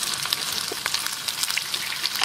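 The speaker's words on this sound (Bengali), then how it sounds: "একটা ফ্রাই প্যানে পর্যাপ্ত পরিমাণ তেল গরম করে নিয়েছি মাছগুলো ভাজার জন্য" Prawns fry in hot oil in a frying pan, producing a continuous loud sizzle scattered with sharp crackles and pops.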